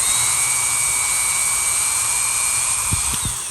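A restored mid-century Stanley aluminum-bodied electric drill motor runs after a long idle spell, holding a steady high-pitched whine with a thin tonal hum, followed near the end by a few low knocks.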